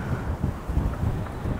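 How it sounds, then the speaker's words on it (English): Wind blows across an outdoor covered patio at a new two-story home in southwest Las Vegas, close buffeting gusts hitting the microphone in uneven low rushes. "It's just windy today,"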